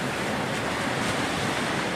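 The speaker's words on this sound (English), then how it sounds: "the beach and off the waves that are rolling" Ocean waves rolling in on a beach make a steady, full wash of surf with wind noise, constant and loud with no voices.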